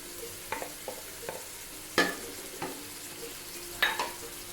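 Chicken frying and being stirred in a pan with spices for a chicken palak pulao, giving scattered scraping stirs and bursts of sizzle over a steady low frying hiss, with no talk.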